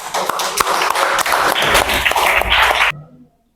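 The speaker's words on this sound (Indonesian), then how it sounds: "Kasih aplaus untuk kelompok 1." A group in a classroom claps for the first presenting team, dense, lively applause close by with sharp individual claps, continuing steadily before cutting off abruptly into silence.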